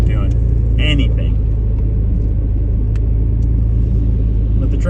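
A truck engine runs with a steady, loud low rumble throughout, with brief brighter noises and a voice speaking over it.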